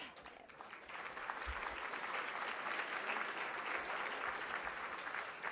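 Sustained applause at a Double Helix Medals dinner, a dense wash of many hands clapping in a large room, fairly distant and even throughout.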